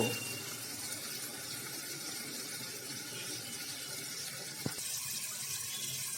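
Water running steadily into a pan of green pea and potato curry in a home kitchen, a continuous gentle gushing hiss with one brief clink near the end and no talk.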